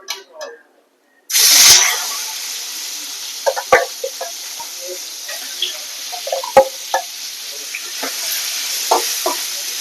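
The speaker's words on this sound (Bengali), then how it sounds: "এবার আমি তেলের মধ্যে মাছগুলো ছেড়ে দেবো।" Pakal fish dropped into hot oil in a home kitchen, with a sudden loud sizzle that settles into a steady frying hiss. Scattered pops and clinks follow, and a voice speaks briefly at the start.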